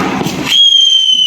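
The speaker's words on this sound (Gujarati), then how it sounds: "આ નવી રીતનો ફટાકડો છે, અવાજ કરે હવે." A new kind of Diwali firecracker bursts with a short crackling blast, then gives way to a sharp, sustained high whistle that rings on alone.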